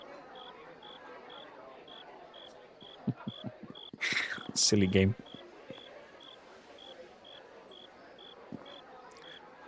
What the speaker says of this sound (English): The cricket's meant to be soothing.